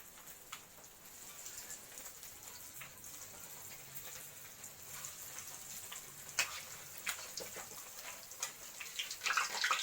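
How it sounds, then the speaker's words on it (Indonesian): Chicken nuggets fry in oil in a wok, giving a faint, steady sizzle with scattered pops and crackles that grow busier and louder toward the end. "Masukkan nuggetnya ke dalam wajan untuk digoreng."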